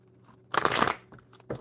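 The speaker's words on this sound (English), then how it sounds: "One more good shuffle for Christy." Playing cards shuffled by hand during a live coffee-and-cards stream: one dense, papery riffle lasting about half a second, followed by a quieter, brief flick of cards, with no talking.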